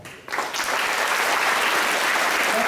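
Applause from an audience at a Chinese cultural demonstration in a high school, greeting young Chinese opera performers; a dense, steady wash of clapping that rises quickly and stays loud and sustained.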